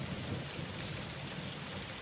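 Steady rain falls through a thunderstorm, a dense even hiss with low rumbling underneath, soft and continuous without any voices.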